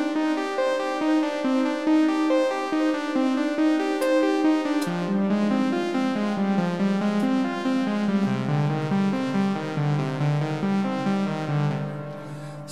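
Synthesizer arpeggiator notes from a Roland JP, triggered over MIDI by a Casio keyboard, ripple in a fast, steady stream of bright repeated tones, stepping down in pitch partway through and fading slightly at the end.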